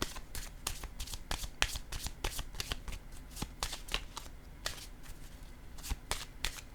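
Playing cards riffle and snap in quick repeated bursts as they are shuffled and drawn, crisp, close and fairly quiet, with no talking over them.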